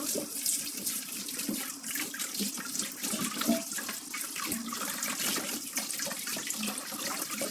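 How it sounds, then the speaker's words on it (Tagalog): Tap water runs steadily into a kitchen sink while vegetables are washed under it, with a continuous close splashing rush and small clatters, no talking. "So, hugasan na natin ito."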